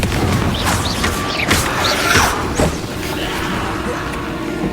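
A Confringo fire spell explodes in Hogwarts Legacy, a loud booming blast with crackling debris and rumbling aftermath filling the whole stretch.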